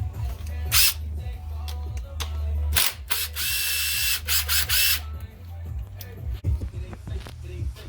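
Ratchet wrench backing out lid bolts on the supercharger of a 2010–2015 Camaro ZL1 with LSA engine, heard as short bursts of close clicking and whirring separated by pauses, with faint low hum underneath.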